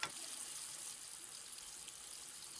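Water runs steadily at washstands in the visual novel Everlasting Summer, a continuous soft hiss of flowing tap water with no other sounds over it.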